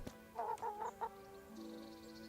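Chickens in the medieval game Kingdom Come: Deliverance give a few short, soft clucks, then fall quiet over a low ambient hum.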